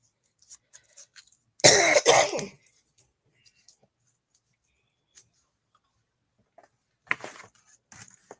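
A single loud, rough cough burst lasting about a second, followed by quiet small clicks and a few brief throat-clearing noises near the end.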